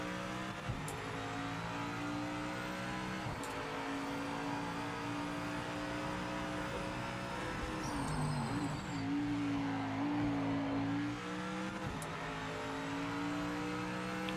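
An Audi race car on cold tyres in the racing game Project Motor Racing, its engine droning steadily with rising and falling pitch as it revs and shifts, heard close and continuous with no talking.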